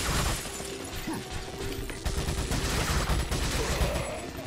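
Rapid bursts of gunfire in Resident Evil 4, dense repeated shots clustered into fusillades, loud and continuous across the moment with shattering impacts mixed in.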